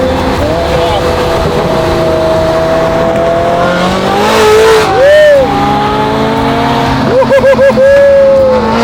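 A Lamborghini sports car engine drones and rises in pitch, revving loudly and close during a night cruise, with a few short sharp rev bursts near the end.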